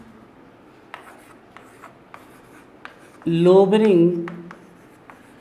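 Marker or chalk strokes on a board during a chemistry lecture, a series of short faint taps and scratches spaced through the clip, broken midway by a brief burst of the lecturer speaking.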